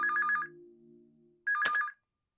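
A telephone rings in two short electronic trilling bursts separated by a pause with a low hum, fairly quiet, then silence.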